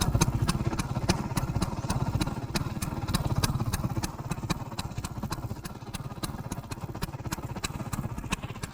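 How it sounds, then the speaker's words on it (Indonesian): A vintage Vespa VBB scooter engine idles steadily up close, a fast, even putter with a faint mechanical clatter that holds for several seconds. "Asiknya lagi ini motor masih bisa stasioner loh."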